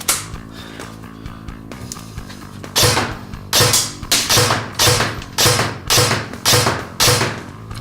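An ASG Scorpion Evo airsoft gun running on an 11.1 battery fires 0.2 g BBs. A few light taps give way to a rhythmic series of sharp, loud bursts, close by and with no talking.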